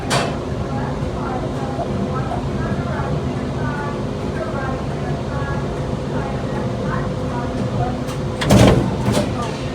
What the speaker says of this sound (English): Yep, here's the doors.